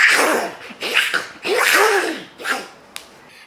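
A voice imitates cats fighting, with a run of yowling, hissing bursts of varying length separated by short gaps and a sharp spit near the end, close and fairly loud.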